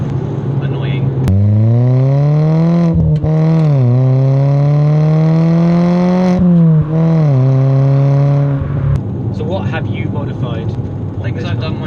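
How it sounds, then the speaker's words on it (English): A 100HP Fiat Panda drives at high speed, its engine droning and rising and falling in pitch through gear changes, with wind and road roar filling the cabin while people talk over it. "You can hear a little bit of wind noise at high speed."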